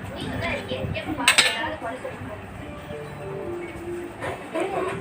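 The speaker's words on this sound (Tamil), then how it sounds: "பிறகு பார்த்தீங்கன்னா தேங்காய் பால் ஊற்ற போகிறோம்." Coconut milk is poured into bonda batter in a bowl and mixed, with scattered clinks and scrapes of a utensil against the dish over a low background murmur.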